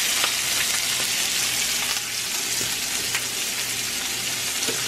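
Filet mignon steaks sizzle and fry in a pan, a steady loud crackling hiss with scattered pops running continuously and without speech.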